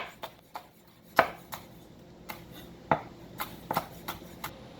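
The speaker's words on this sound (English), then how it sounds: "Alright, then I'm just going to mince them up real good without the spoon." A knife mincing fresh jalapenos on a cutting board, with a steady run of sharp, close chopping taps at an uneven rhythm and several louder strikes standing out.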